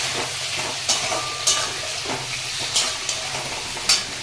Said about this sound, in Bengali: হালকা আঁচে মশলাটাকে কষবো।